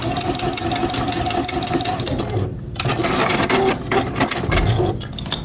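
A sewing machine runs at a fast steady clip stitching stitch-and-flip quilt corners, loud and close, with a brief pause and shifting motor tone midway before it resumes.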